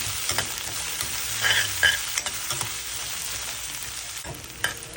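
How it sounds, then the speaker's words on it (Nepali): Onions frying in hot oil after ginger and garlic go in, stirred until golden brown; a steady close sizzle runs throughout, broken by scraping stirs and clinks of a spoon against the pan. "अब प्याजलाई हामी गोल्डन ब्राउन हुँदैसम्म भुट्नेछौँ।"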